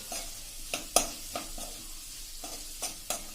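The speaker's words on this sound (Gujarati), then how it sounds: "સરસ ટમેટા બધા સાથે સાંતળી લેશું" Tomatoes sauté with garam masala in a pan, a soft sizzle broken by regular scraping strokes of a spoon, about one every half second, close and moderately quiet.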